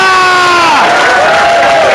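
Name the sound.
congregation applauding and shouting in victory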